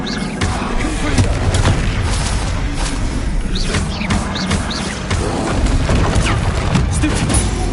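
Rapid Confringo blasting spells from Hogwarts Legacy, a string of booming magical explosions and crashing impacts over steady combat noise, with a voice calling out spell names between the blasts.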